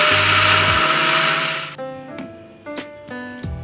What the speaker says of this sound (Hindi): इस तरह मिक्सर के जार में डालना है और इसको हम थोड़ा सा पानी डाल के पीस लेंगे।